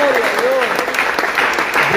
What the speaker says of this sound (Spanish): Denle aplausos al Señor